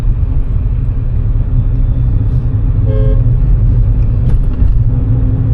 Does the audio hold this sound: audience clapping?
no